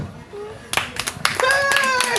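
An audience at a children's show bursts into applause for Mr. Rapio, with scattered claps building into steady clapping, and voices and a child's speech are heard over it.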